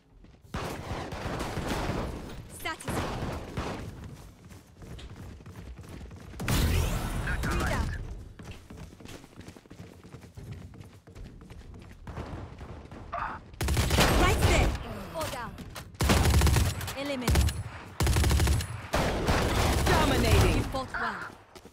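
Shotguns fire in rounds during Valorant gameplay, loud booming blasts in repeated bursts layered over dense game noise and a talking voice.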